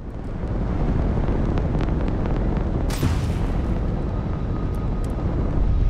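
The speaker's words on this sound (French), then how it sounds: "Il y a un vaisseau qui s'approche là." A spaceship approaches a station in the video game Starfield, a broad rumbling roar of engines that swells steadily, with a sharp whooshing burst near the middle over constant low-frequency thrum.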